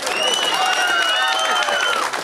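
An audience at a mimicry comedy show claps steadily and densely for about two seconds, with a wavering voice-like tone threading through the applause.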